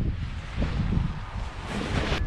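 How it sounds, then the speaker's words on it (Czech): Wind buffeting a microphone at a paragliding site in Řevničov, a steady low rumbling gust with no other sounds. "Malej vítr."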